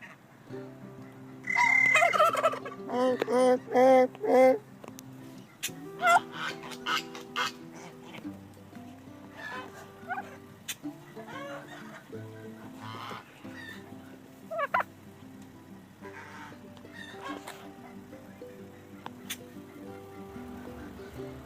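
Turkeys gobble in loud bursts early on, then softer clucks and calls continue over outdoor background noise, with a little talk mixed in.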